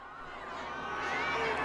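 Easter crowds of pilgrims fill St. Peter's Square, producing a soft, distant murmur of many voices that swells slightly louder toward the end of the brief moment.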